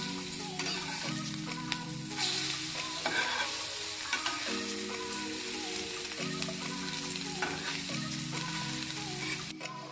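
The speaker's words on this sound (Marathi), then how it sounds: "एका साईडनी आता फ्राय झाले आता ह्या साईडनी करूया" Wadas fish frying on a pan after being turned to its second side, a dense continuous sizzle and crackle with occasional spatula scrapes and taps, close and steady throughout, no voices.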